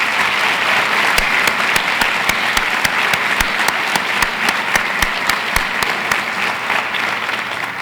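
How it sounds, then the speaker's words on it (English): An audience at a university State of the University address claps for faculty, sustained loud applause with crisp individual claps standing out and no talk over it. "Let's give our faculty a round of applause."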